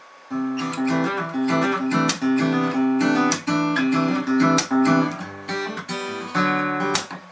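Fast guitar riff played at full speed, briskly with clear picked notes and chords in a steady driving rhythm, loud and close, no talking.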